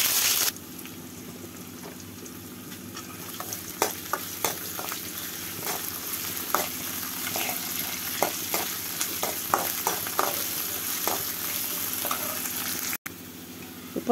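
Onions sizzle steadily in hot oil in a pan for a South Indian small-fish curry, with scattered crackles and occasional sharper pops, close and loud with no talking.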